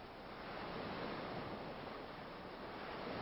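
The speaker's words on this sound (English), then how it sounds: "A deep blue sea murmurs through the rolling surf" Rolling ocean surf on a deep blue sea, a steady broadband wash of breaking waves with a faint wind hiss, continuous and even for a few seconds with no voices.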